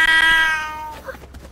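A person imitating a cat with a single loud, drawn-out, nasal meow close to the microphone that fades over about a second, followed by quiet rustling.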